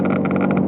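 A cold car engine runs steadily at close range, its even hum carrying a rapid, rhythmic clicking that ticks along throughout the brief stretch.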